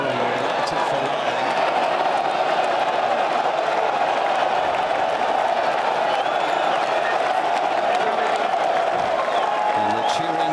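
Golf spectators at the 2016 Ryder Cup cheer and shout in a continuous loud roar while the ball rolls down a slope on the green, with commentary heard over the crowd.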